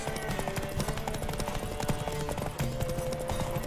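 Galloping horse in The Witcher 3 game, steady rapid clip-clop hoofbeats driving along over a layer of music and ambient game sound, close and continuous throughout.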